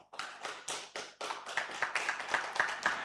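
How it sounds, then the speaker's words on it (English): A small conference audience claps in a sparse, uneven burst of individual hand claps, fairly close and clear, lasting about three seconds. "Please give applause for Professor Tomoyasu Sano, everyone."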